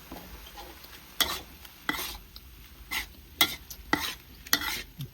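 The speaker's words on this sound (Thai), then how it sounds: "น้ำมันออกแล้วนะได้ที่เราก็สิใส่หนังอันเปื่อยของเฮาลงไป" Tender stewed pork skin frying in rendered oil, with a low crackle underneath and a series of sharp, irregular scrapes and clatters as it is stirred around the pan.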